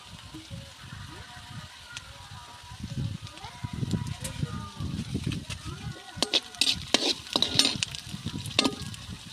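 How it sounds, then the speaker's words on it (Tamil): Oil sizzles in a pan as village-style chicken curry is started over a hot wood-fired stove, with stirring and utensil clatter growing busier toward the end; a person talks throughout. "சிக்கன் குழம்புக்கு எண்ணெய் ஊற்றிக்கிறோம்."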